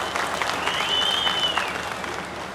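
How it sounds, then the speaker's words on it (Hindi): A crowd claps steadily at an outdoor political rally of the BJP at the historic Chaugan in Chamba, dense applause with a faint whistle, fairly loud and continuous. "जो मैं तालियों की गड़गड़ाहट की आवाज सुन रहा हूं"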